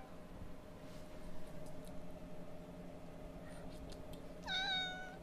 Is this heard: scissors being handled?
no